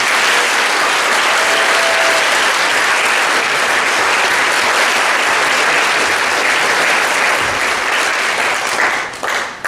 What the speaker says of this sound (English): let's give everybody a round of applause, please